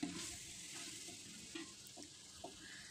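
Chicken frying and being stirred in a pot for chicken pulao, a steady close sizzle with occasional soft scrapes and knocks of the spoon, no talking.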